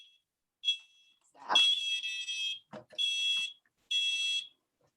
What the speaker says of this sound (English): we've set off the smoke alarm in Addie's apartment